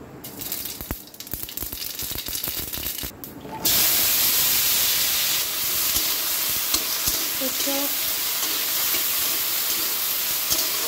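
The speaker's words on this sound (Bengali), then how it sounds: "এই তেলের মধ্যেই ফোড়নটা দিয়ে দেবো।" Scattered clattering gives way to a sudden loud, steady sizzle as mustard seeds hit hot oil, hissing and popping continuously to the end.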